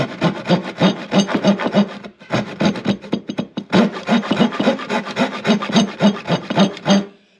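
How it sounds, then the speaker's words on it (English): A handmade toolbag saw rasping back and forth through a wooden 2x4, loud close strokes in a fast steady rhythm, broken by a brief pause before the cutting resumes. "you can cut a 2x4 in half with this. Give it enough time."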